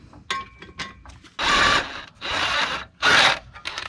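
Bolts come off the flywheel of a Jeep Wrangler YJ during a clutch job, heard as a few light clicks and then three loud bursts from a ratcheting power tool, close by.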